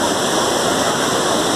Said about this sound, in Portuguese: Olha que beleza de cachoeira